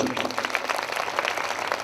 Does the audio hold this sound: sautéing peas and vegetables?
no